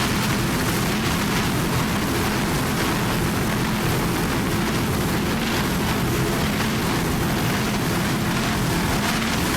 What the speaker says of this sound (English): Nice throttling job there by Troy Hannon.